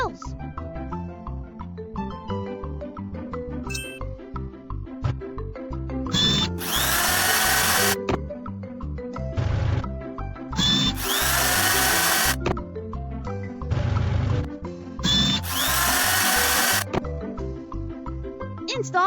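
A power drill whirs in three loud bursts of about two seconds each, spaced evenly, over steady background music during the installation of drills on an excavator for digging a fish pond.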